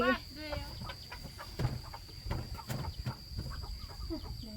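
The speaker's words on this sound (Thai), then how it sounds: "นี่ไก่" Chickens in a rural garden cluck repeatedly at close range, with short pecking-like calls scattered throughout over a constant high insect-like hum and faint background voices.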